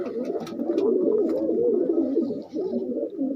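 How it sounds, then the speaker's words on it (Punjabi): A flock of pigeons crowded together on a roof or ledge coo in a continuous low, throaty murmur, close and fairly loud, with a few faint higher chirps mixed in. "ਸਾਰੇ ਕਬੂਤਰ ਐਨ ਤੜ ਚ ਬੈਠੇ ਨੇ ਪੂਰੇ"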